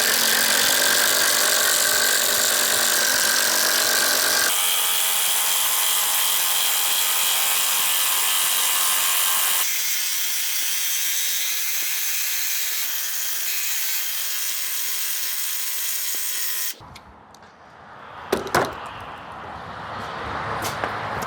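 Big lag bolts being driven by a Temu JSD impact driver and an older Milwaukee impact driver, heard as a long, loud, continuous hammering whir that shifts pitch partway through and breaks off into scattered clatter near the end.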